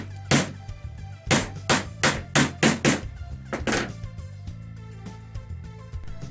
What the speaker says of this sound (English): Use the hammer to help you.